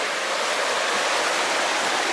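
A mountain creek near a gold mine in the Sierras rushes steadily with a dense, even wash of flowing water, close and continuous, with no voices.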